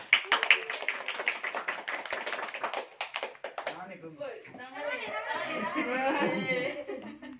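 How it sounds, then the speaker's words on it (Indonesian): An audience at a student farewell event claps in a burst of dense patter, followed by chatter and laughter from the crowd, with voices talking through the later part. "tepuk tangan, ayo"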